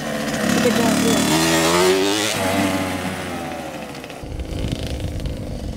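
A KTM SX65 motocross bike revs loudly at full throttle, its engine note climbing and wavering for a few seconds before dropping back to a rougher, lower idle-like rasp, with people talking over it.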